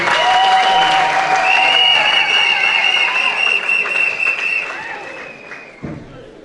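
Loud, sustained audience applause at a ceremony, with a high tonal hum running through it and a thud near the end as it dies away.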